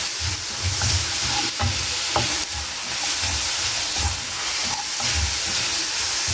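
Chicken liver, gizzards and onions seasoned with salt, pepper, spices and nutmeg sizzle and hiss steadily in a pan, with a few scraping stirs breaking through the frying.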